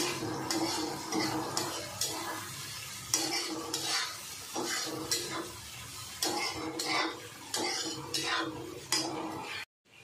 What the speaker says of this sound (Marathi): गॅस फास्ट ठेवायचा, डाळ परतून घ्यायची